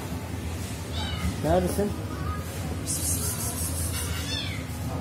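A stray street cat gives a single distant meow while a person speaks nearby, the cry faint but clear against quiet outdoor background noise.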